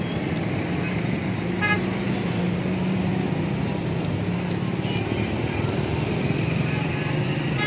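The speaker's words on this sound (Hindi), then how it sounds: "बहुत बड़ी रैली है, ट्रैफिक तकरीबन ब्लॉक हो चुकी है" Traffic stuck on a road blocked by a large political rally in Sheikhupura: a dense, loud roar of engines and crowd noise with scattered car horns tooting, continuous throughout, with voices faintly mixed in.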